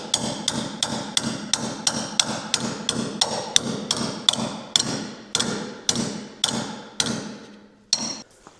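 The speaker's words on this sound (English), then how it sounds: "I tapped and I tapped and I tapped," A hammer taps repeatedly on a stuck slip plate joint, around fifteen sharp, ringing metallic strikes in a steady rhythm, close and clear, ending in a couple of spaced final taps with no talking.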